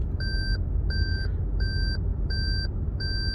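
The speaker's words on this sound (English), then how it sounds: "That's why the car's constantly beeping, because I'm carrying something in the trunk." A Lexus GS350 3.5 V6 chimes a trunk-open warning, five evenly spaced electronic beeps over a steady road rumble inside the moving car.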